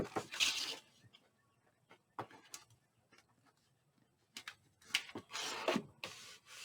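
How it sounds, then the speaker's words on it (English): Paper being burnished onto a steampunk album cover in a craft folio build, heard as short scattered rubbing strokes, some louder bursts near the start and toward the end, with quiet gaps between. "Let me burnish that in."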